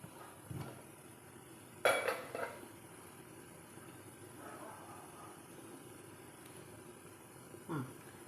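A metal steamer pot holding kozhukkatta dumplings is opened, giving a few faint clinks and clatters of metal lid and utensils spaced apart against a quiet kitchen background, with a brief scrape near the end.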